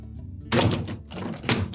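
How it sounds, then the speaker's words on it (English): A GE dishwasher door is opened fully, giving a soft thunk followed by a few dull clunks and rattles, close by and fairly quiet. "So we'll open up the door completely"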